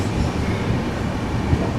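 Tirumala Express 18522 pulls out of Tadipatri station, a steady loud rumble of wheels and carriages heard from on board, without pause.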